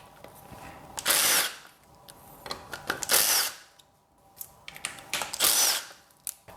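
Power tool spinning out the stator cover bolts on a 2006–2007 Suzuki GSX-R 600/750 motorcycle, three separate whirring bursts of about a second each with quieter clinks and handling noises between them, close and without talk.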